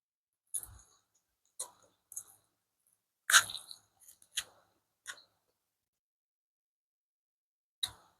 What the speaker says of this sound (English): I'm gonna take a bite